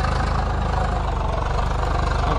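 A New Holland 855 tractor engine running in Farming Simulator 22, a loud steady low diesel chug with a fast even knocking pulse, close and alone.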